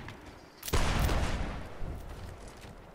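Musket fire in a Whigs and Tories line battle, a sudden loud volley of many shots fired together, then a ragged crackle of scattered reports trailing away over about two seconds.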